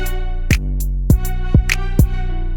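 A short piano phrase of a few plucky, bright notes that step downward and then climb back up, each note ringing briefly before the next.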